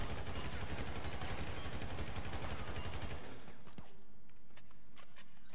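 Rapid automatic gunfire in GTA V rattles loud and dense for about three seconds, then breaks off into a few scattered, fainter shots and clicks.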